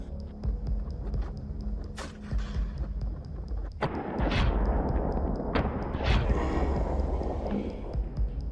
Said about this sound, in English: A decisive gunshot rings out.